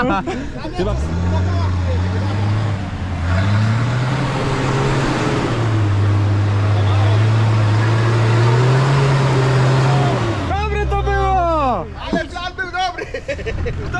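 A Nissan Patrol off-road vehicle's engine revs hard and steadily in a sustained loud drone that rises and falls, cutting off near the end, with excited voices and crowd chatter around it.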